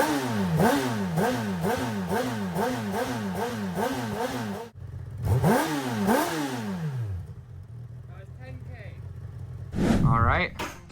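Honda CB1000R motorcycle engine, still on its stock exhaust, revving up and down in a fast repeated run of blips, then two long rising-and-falling revs and a final short blip, loud and close.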